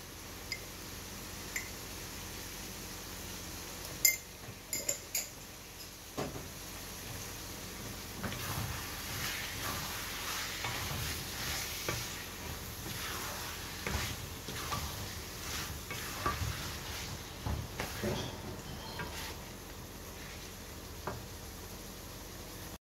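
Egg bhuna fries in a pan while a spoon stirs it, a soft continuous sizzle broken by scattered scraping and ticking clicks, quiet and close, with no talking.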